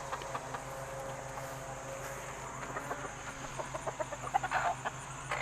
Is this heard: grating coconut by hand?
no